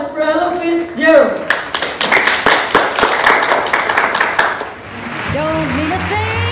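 A round of audience applause, a burst of clapping of a few seconds in the middle, framed by a person talking before and a voice starting to sing after.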